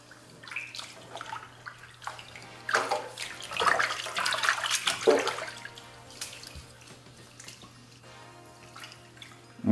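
A synthetic wig is dunked and swished in a basin of water, giving soft sloshing and splashing that swells in the middle and then settles into quieter dripping and trickling, close by, with no voices.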